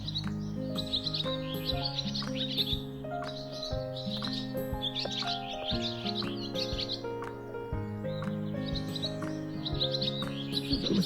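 Spring birdsong with flowers in bloom: clusters of quick, high chirps recurring every couple of seconds, moderately near, over a constant low droning background.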